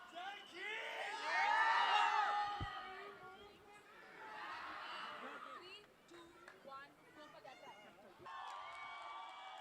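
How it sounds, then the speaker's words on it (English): A live show audience cheers and whoops for the performers Kings United. The cheering is loud at first, eases off, then rises again, with voices shouting over the crowd noise. "That's a big round of applause for Kings United, guys."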